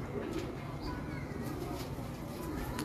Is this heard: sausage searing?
no